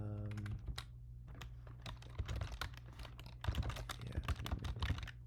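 Fingers type on a computer keyboard in a fast, irregular patter of quiet clicks, heard close over a low steady hum, with no voices.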